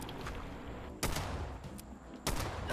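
Video game gunfire, a sustained rattling burst of rapid shots broken by two sharper, louder bangs, with no talking.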